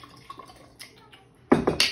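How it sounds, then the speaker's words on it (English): Milk splashes into a jar holding kefir grains, a few faint drips and trickles giving way to a louder, brief gurgling pour near the end. "I pour some milk in here"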